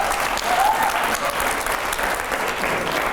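A studio audience at a televised Hindi rapid-fire debate claps loudly and densely, a sustained burst of applause lasting about three seconds with no voices over it.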